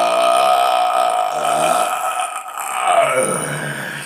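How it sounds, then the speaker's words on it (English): A long, loud burp after eating pickles during a pickle-eating challenge, rumbling on continuously for about four seconds with a groaning, voiced tone and no talk over it. "That's a burp."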